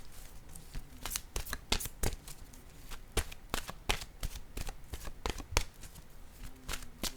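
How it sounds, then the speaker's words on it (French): Oracle cards being shuffled by hand give a close, crisp run of irregular riffling flicks and slaps, with no talking. "je vais piger une carte de mon oracle de l'âme intuitive"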